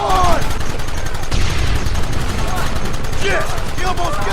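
Gunfire crackles through a shootout in the video game Red Dead Redemption, with rapid overlapping shots and voices shouting over the battle.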